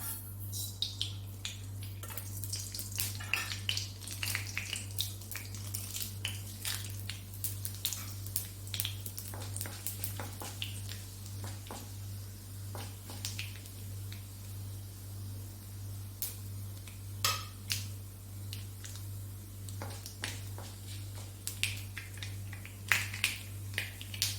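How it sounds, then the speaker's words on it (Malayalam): Mustard seeds and dried red chillies frying in coconut oil in a pan, giving faint, scattered crackles and pops that come and go over a steady low hum, with no talking. "ഇനി അതിലേക്ക് നമുക്ക് കടുകും വറ്റൽമുളകും ഇട്ട് കൊടുക്കാം."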